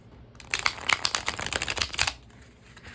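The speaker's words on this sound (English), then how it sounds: "I am just going to shuffle those oracle cards right on into the deck." Linen-finish cardstock oracle cards are shuffled by hand, producing a rapid crisp flurry of riffling clicks and flaps for about two seconds, close and quiet.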